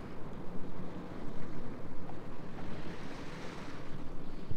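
Sea waves wash against a sailing boat on a coastal passage from Agay to Le Lavandou: a continuous broad rushing surge mixed with gusty wind buffeting the microphone, no voices.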